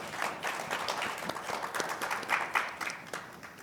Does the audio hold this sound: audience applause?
yes